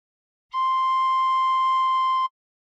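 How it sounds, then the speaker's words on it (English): One hard-blown tin whistle note with all six holes covered by fingers one to six, a single clean sustained tone lasting almost two seconds on its own. "And put fingers 1 to 6 on holes 1 to 6 and hard blow once."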